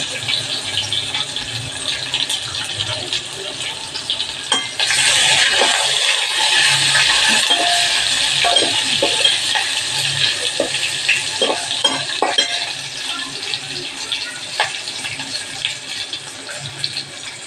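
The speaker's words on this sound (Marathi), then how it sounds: "नंतर ओली मिरची मोहरी टाकली आहे" Loud, steady sizzling of cumin, green chili and mustard seeds hitting hot oil for a tempering, flaring up sharply partway through and crackling on continuously with faint clinks.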